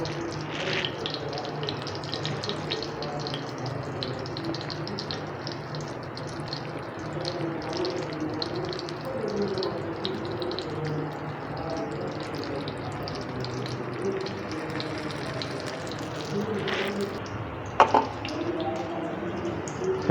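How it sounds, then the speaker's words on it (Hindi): Beef shami kebabs frying in oil, a steady soft hiss and sizzle with small crackles and pops running continuously, with a couple of sharper pops near the end. "हमारे कबाब माशाल्लाह से फ्राई हो रहे हैं"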